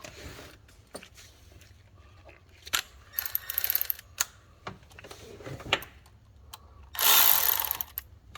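A hand ratchet tightens the oil filter housing adapter bolts on a 2014 Jeep Grand Cherokee 3.6L V6: quiet, scattered clicks and short bursts of ratcheting, with a longer, louder run near the end.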